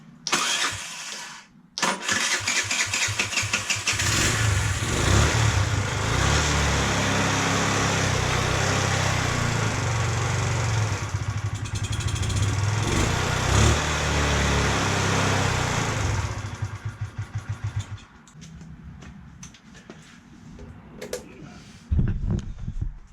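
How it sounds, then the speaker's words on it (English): A GY6 50cc scooter engine cranks and catches, then runs loud and steady at close range for about fifteen seconds, with revs rising and falling before it drops toward an uneven idle and a final short burst. "All right, so you saw me got it running."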